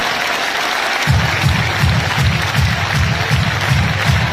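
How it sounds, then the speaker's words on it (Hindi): A large devotional gathering in Fatehabad, Haryana breaks into loud, sustained clapping after a second of crowd noise, the applause filling the rest of the clip evenly with no speech over it. "एक बार दिल से ताली और बजा दो प्रिंट मीडिया को"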